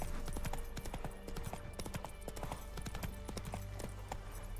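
Roach, a horse in The Witcher 3, gallops with steady, rapid clip-clop hoofbeats over a dense, loud game soundscape, continuous throughout.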